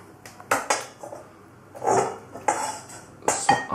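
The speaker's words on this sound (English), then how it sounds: "So I'll put the lid on." A metal lid set onto a cooking pot while mulled wine is being prepared, giving several sharp clanks and clatters with short ringing tails, close by and fairly loud.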